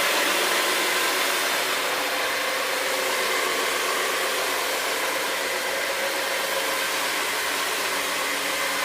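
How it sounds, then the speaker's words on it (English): Carpet cleaner with a counter-rotating brush and no suction running close by, a loud constant whirring drone with no talking. "This is just counter-rotating brush."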